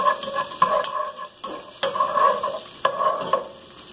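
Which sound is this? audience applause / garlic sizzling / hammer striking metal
garlic sizzling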